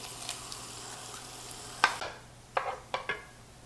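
Onion sizzling in a hot pan for an egg migas breakfast, a soft steady fry punctuated by a few sharp stirring scrapes and clatters near the end, no voices.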